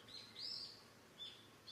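Birds chirping outdoors, a few high, thin tweets at a distance over quiet background noise.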